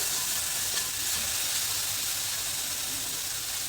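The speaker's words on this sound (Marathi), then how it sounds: "त्यामध्ये घालायचं आपण बनवून घेतलेला ठेचा कच्चेपणा कमी होण्यासाठी परतून घ्यायचा आहे थोडा" Thecha, a coarse green chili paste, sautéing in a pan of oil or ghee gives off a continuous, fairly loud hiss that stays even throughout, with no voices over it.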